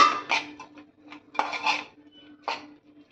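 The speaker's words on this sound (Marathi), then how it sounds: "कोळंबी पण घालते आणि कोळंबी घालून आपण हे परतून" Prawns are stirred and sautéed in a pan, with a metal utensil giving several irregular clanks and scrapes against the cookware, close and fairly clear in a quiet kitchen.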